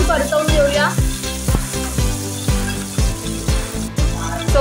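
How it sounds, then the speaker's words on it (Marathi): Chopped tomato and crushed garlic sauté in a pan with a steady sizzle and stirring, heard under tonal background music that plays throughout. "आता आपण घालूया 1 बारीक चिरलेला टोमॅटो, परतवून घेऊया आणि 3-4 पाकळ्या ठेचलेला लसूण।"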